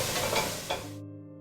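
Onions sizzling steadily in a frying pan on lowered heat for a bolognese sauce, with two scraping stirs of a spoon across the pan before the sound cuts off abruptly; close and alone.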